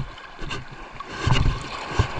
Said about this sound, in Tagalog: Grabe ang lalaki ng alon.